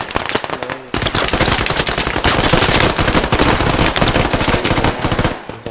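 Loud, sustained machine gun fire in the SQUAD military shooter, with rapid, continuous bursts of close shots that fill nearly the whole stretch after a brief opening shot.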